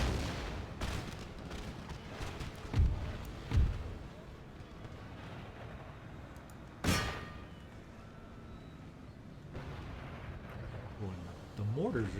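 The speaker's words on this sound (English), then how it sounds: "The mortars are just pounding us" Mortar bombardment in the strategy game Empire: Total War, with several dull booming impacts spread through a rumbling battle din while someone speaks over the action.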